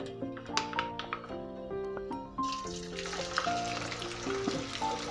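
Rava vada batter dropped into hot oil and frying, a loud, steady close-up sizzle and crackle with clinking pan sounds at the start and no talking.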